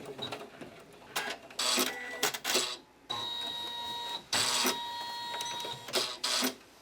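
A sewing machine running straight stitch rows on fabric trim for a church vestment panel, in several bursts of whirring stitching separated by short pauses, close and fairly quiet.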